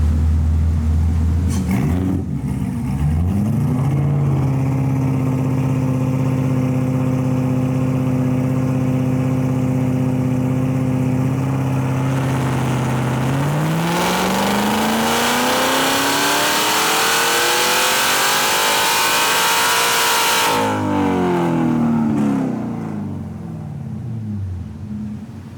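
A Corvette Z06 on a chassis dyno running methanol injection, its engine idling steadily, then revving hard through a long rising full-throttle pull to a loud screaming peak before dropping back off, close and with no talking.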